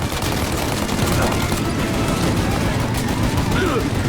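Dense, continuous gunfire in the video game Mafia Definitive Edition, a loud rattling fusillade of rapid shots with no pauses.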